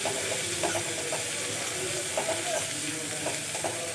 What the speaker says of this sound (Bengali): আদা আর কাঁচা লঙ্কা আমি কিছুক্ষণ ভেজে নিয়েছি।